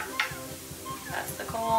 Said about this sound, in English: And I will stir it up without burning myself on any other hands.